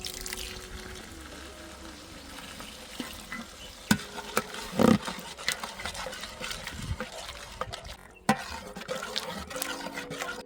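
Water is poured into a pan of Kashmiri red chilli, turmeric, coriander-cumin and garam masala for a village-style onion curry, setting off a steady sizzle and bubbling with stirring scrapes.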